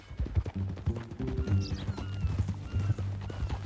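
Horse hooves clip-clop in Red Dead Redemption 2, a close, uneven string of hoof knocks on ground mixed with creaking and other game sounds for several seconds, with no voices.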